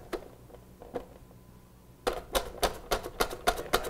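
A knife slices through Klondike Rose potatoes for a French dauphinoise, giving a run of about eight crisp, evenly spaced chops close by after a few faint taps.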